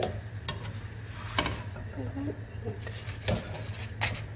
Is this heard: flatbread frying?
yes